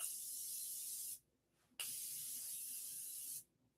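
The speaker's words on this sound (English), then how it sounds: "I'm spraying myself. Gonna spray my face." Two hissing bursts of makeup setting spray onto a face, close by, each lasting about a second with a short pause between, no talking.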